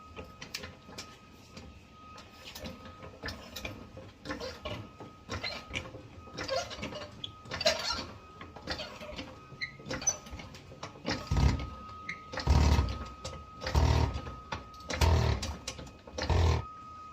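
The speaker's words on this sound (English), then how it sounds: "And I'm going to go ahead and jack this thing up and get the tire changed out." Car jack being worked to raise an Audi A5 with a flat tire, giving a run of rhythmic mechanical ratcheting strokes that grow louder and more regular toward the end, with no talking.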